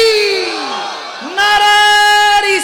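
Crowd at an Islamic waz gathering chanting a religious slogan in loud unison, led by a preacher's strong call, with voices swelling together in two sustained shouted phrases close to the microphone.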